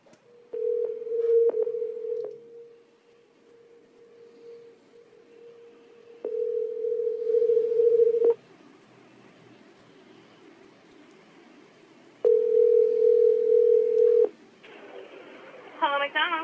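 A telephone call to McDonald's rings out, with three long steady ringback tones separated by quiet gaps, a few short clicks, and a faint voice at the very end.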